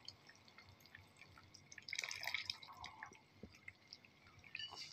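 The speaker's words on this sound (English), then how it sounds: "I'm going to add" Tamarind juice is poured into a curry, giving a soft liquid trickle and splashing that swells for about a second before settling into faint drips. It is quiet and close, with no talking.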